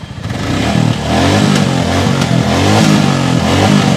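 Close, loud idling engine of a brand-new Royal Enfield Bullet Classic 350 fitted with its stock factory silencer, a deep steady thump with a few blips of the throttle, heard alone.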